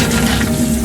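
Cold tap water runs steadily over asari clams being rinsed, a continuous close splashing hiss with no talking.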